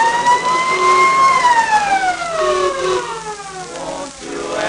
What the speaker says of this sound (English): Fire engines came running and there was much excitement.